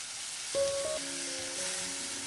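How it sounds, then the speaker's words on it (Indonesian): Tofu stir-fries in a pan with ground chili paste, giving a soft, steady sizzle and hiss throughout. A few faint tonal sounds rise briefly over it, and no one speaks. "Ini cabai uleknya kita masukkan sekalian, lalu kita aduk rata kembali"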